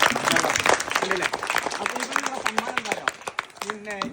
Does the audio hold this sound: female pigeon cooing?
no